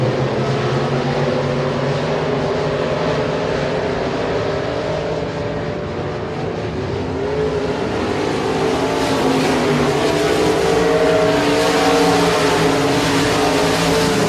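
Limited Modified race cars roar around the Sabine Speedway oval in a steady, loud engine drone that swells and holds, many cars running together with no voices over it.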